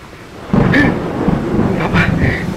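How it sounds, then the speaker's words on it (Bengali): Cartoon thunderstorm with heavy rain, steady loud downpour throughout, broken by two booming thunder cracks about a second apart, with brief voice-like sounds mixed into the storm. "খুব বৃষ্টি শুরু হলো।"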